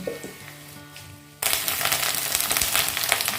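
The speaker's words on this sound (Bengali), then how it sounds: "পেঁয়াজটা খুব ভালো করে ভাজা হয়ে গেছে।" Onions frying in a pan for a Bengali doi katla curry, a quiet stretch giving way to a loud, steady broadband sizzle that fills the rest of the moment.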